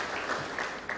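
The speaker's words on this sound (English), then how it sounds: "let's welcome him with a huge round of applause" A conference audience applauds a sugar company executive being welcomed on stage at a Coimbatore business event, a fairly strong, even patter of clapping heard on its own.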